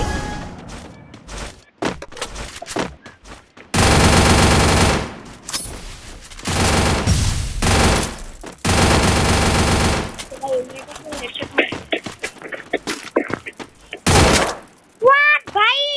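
Video game gunfire in a shooter match: loud bursts of automatic fire around 4–5 s, 6–8 s and 8.5–10 s, with a short burst near 14 s, broken by single shots and game sounds, with talking.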